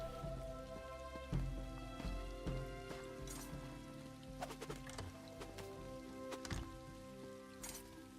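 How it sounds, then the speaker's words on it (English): Quiet rain pattering on surfaces in the video game The Elder Scrolls Online, with scattered louder drops and taps, steady and soft with no talking. "Oh, it's starting to rain."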